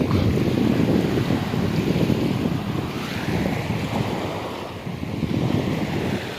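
Sea waves crash under strong wind during Typhoon Kristine, a loud, continuous roar of surf and gusting wind buffeting the microphone, with no talk.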